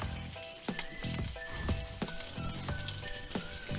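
Tantuni meat sizzling and frying in oil in a pan, a steady close crackle with sharp spatters and periodic scraping knocks as it is stirred.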